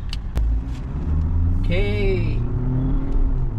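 A Kia Syros 2025 pulled hard under acceleration: a loud, steady engine drone and rumble heard from inside the cabin, with a brief rising whine partway through.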